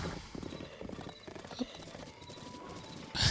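Hooves of a horse in a Zelda video game clip-clop in quick uneven steps with a brief whinny-like burst near the end, close and moderately loud.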